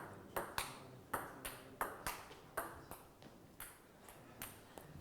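A table tennis ball is struck back and forth, with a mobile phone used as the paddle. Sharp, hollow pings come in a steady rally rhythm of about twelve hits, close and fairly quiet, with no talk over them.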